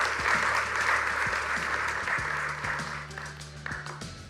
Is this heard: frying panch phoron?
no